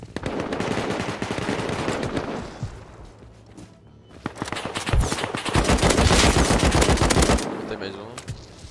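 Rapid bursts of automatic gunfire in the video game Rust rattle in long runs, with a short lull midway before a heavier, louder volley.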